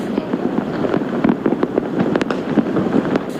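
New Year's midnight fireworks over Quezon City burst in a rapid, irregular barrage of sharp cracks and booms, loud and continuous with a windy rumble underneath.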